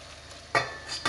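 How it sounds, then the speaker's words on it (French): Shrimp frying in a pan as they are flipped, with a soft background sizzle broken by two brief, louder bursts of sizzling and scraping as the pieces turn. "on peut voir que les crevettes commencent à cuire. Je vais les retourner là"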